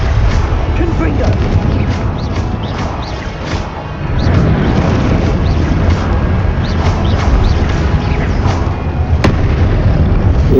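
Repeated fiery spell blasts and explosive bursts in the Hogwarts Legacy video game, dense and loud throughout, with a voice talking over the action.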